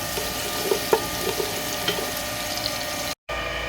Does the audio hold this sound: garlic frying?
yes